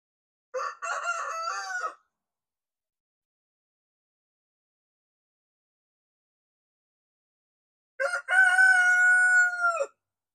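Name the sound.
buff Orpington chickens clucking and crowing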